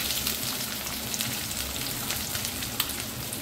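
Garlic frying in oil for a fish curry sizzles in a steady, dense crackle from start to finish, close by and with no voices.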